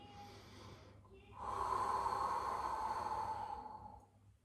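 A long breathy exhale during a Pilates exercise with legs extended, close and steady for about two seconds after a softer breath, then tapering off.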